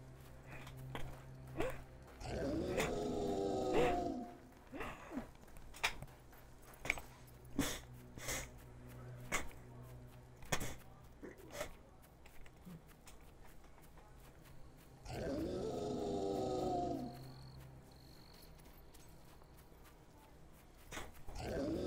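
Low growl of a dog in the Fable 3 video game, two rough, rumbling bursts several seconds apart, fairly close, over quiet game ambience with scattered clicks.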